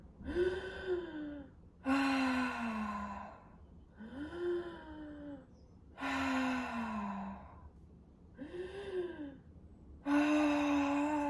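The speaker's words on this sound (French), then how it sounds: "Je reprends de l'air. Je vide l'air." Deep, voiced breathing during a Pilates exercise, with six slow cycles of audible inhales and long sighing exhales alternating at close range, each exhale carrying a moaning tone, with no talk.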